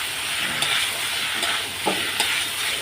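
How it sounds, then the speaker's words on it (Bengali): Cauliflower florets sautéing in a karahi for a Bengali fish curry with potato and cauliflower, giving a steady close sizzle with a few brief scraping stirs of a spatula, no talking. "ফুলকপিগুলো দিয়ে এবার কষিয়ে নেব।"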